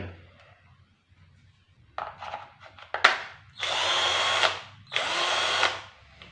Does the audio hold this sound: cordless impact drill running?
yes